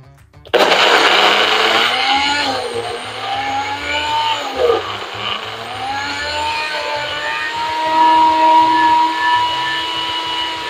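Loud blender starts abruptly and churns a chocolate drink packed with ice, its motor whining and shifting pitch as the ice chunks rattle and strain the mix.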